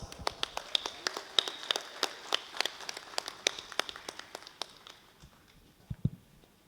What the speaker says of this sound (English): Shall we all greet him with a round of applause?